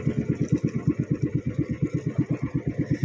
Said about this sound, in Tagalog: Pero umandar din naman yung makina namin.